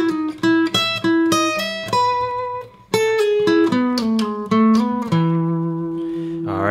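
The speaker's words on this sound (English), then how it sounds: "It's a great example of a string skipping lick that you can use in kind of jam band music" Electric guitar plays a string skipping lick slowly, a run of clear plucked notes jumping between registers in a steady rhythm, finishing on a long sustained note, loud and close with no talking.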